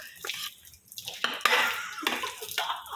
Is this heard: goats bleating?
no